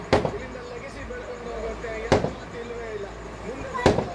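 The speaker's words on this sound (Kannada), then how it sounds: "ಅಲ್ಲಿ ಆಗ್ಲೇ ಪಟಾಕಿ ಹೊಡಿತವ್ರೆ" Three loud firecracker bangs go off a couple of seconds apart over a steady background murmur, with people talking faintly.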